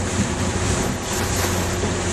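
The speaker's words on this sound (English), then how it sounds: "Got some strong winds out here, as you can tell." Strong wind buffets the microphone out on the jetties along the Carolina coast, a constant broadband roar with water wash beneath it and no speech.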